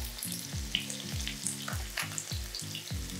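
Onions frying in a pan with steak already cooking, a steady close sizzle with recurring low clanks or stirring knocks, no talking.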